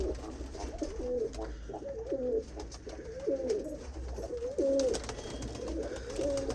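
Pigeons coo in a steady run of repeated low, rolling calls, close and continuous, at a loft where young champion racing pigeons are kept and flown.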